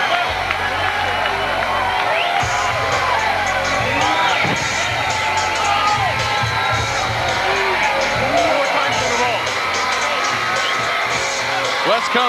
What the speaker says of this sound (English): The crowd cheering for Combs.